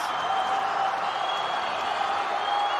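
A stadium crowd at a Pacific Games rugby match applauds and cheers after a successful kick, a dense, sustained wash of clapping that holds steady throughout.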